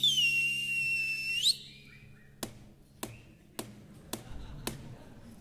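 A person whistles a bright, wavering tone for over a second, followed by several sharp, evenly spaced snaps or taps.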